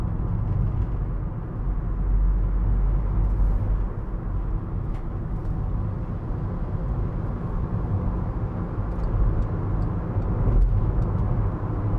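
Inside a Volkswagen Caddy 1.6 TDI C20 Startline panel van with only ply lining and no sound deadening, cruising on a motorway. A steady low engine and road drone fills the cabin without a break.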